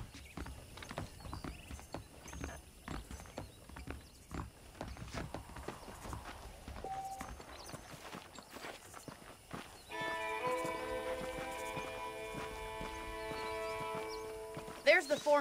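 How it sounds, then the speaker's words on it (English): Saddled horses in Red Dead Redemption move with soft, scattered hoof clops beneath talk and ambient game sound, joined by a sustained musical tone near the end. "The horses are saddled up over here."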